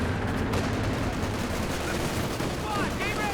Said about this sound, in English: That mortar going to town on them.